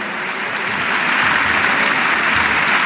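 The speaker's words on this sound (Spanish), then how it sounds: "Pues ese fuerte aplauso" Loud, sustained audience applause at a charity event in Cartagena, a dense wash of clapping that swells slightly and holds steady throughout.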